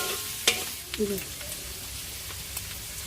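Meat frying in oil in a pan for Ilocano-style bulanglang with mixed vegetables, stirred with a few scraping clicks over a steady soft sizzle, close and moderately quiet.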